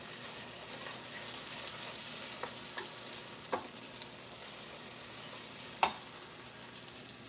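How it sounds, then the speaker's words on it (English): Vegetables sizzle and fry in a pan while being stirred, a continuous close crackle broken by occasional spatula scrapes and clinks against the pan. "I'm stirring my vegetables over here."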